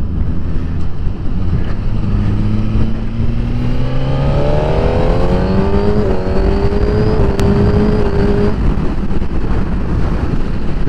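Suzuki GSX-R1000R sportbike on a coastal ride pulls hard through the gears, its engine note climbing in rising sweeps under heavy wind rush, loud and close to the microphone.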